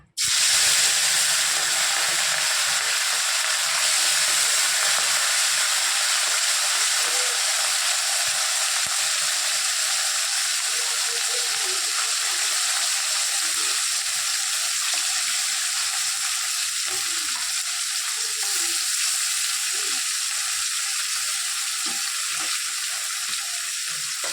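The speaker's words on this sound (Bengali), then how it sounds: "লবণগুলো মেখে রাখা মাছটা এর মধ্যে ছেড়ে দেবো" Salted puti fish dropped into hot oil, starting with a sudden loud sizzle that settles into steady crackling, hissing frying close by with occasional pops and no talk.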